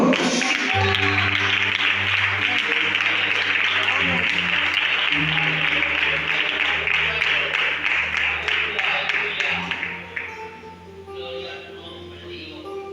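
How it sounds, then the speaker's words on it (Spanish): A church congregation applauds God during a sermon, with dense, sustained clapping that runs for about ten seconds under a steady musical drone and voices before fading out. "Aplaude a tu Dios."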